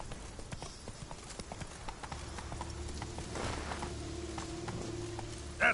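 Roach, a horse in The Witcher 3 video game, walks with a steady clip-clop of hooves at a moderate distance, soft game ambience underneath.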